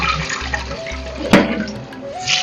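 Yogurt-soaked fish pieces for pickle are rinsed in water. Close splashing and running water fill the stretch, with a brief louder splash near the middle.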